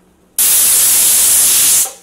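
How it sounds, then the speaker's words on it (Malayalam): Pressure cooker whistle releasing steam while eggs boil on a kitchen stove: a single loud, close blast of hissing steam lasting about a second and a half, starting abruptly and tapering off at the end. "വിസിൽ വന്നു, ഇങ്ങനെ ഓഫ് ചെയ്താ."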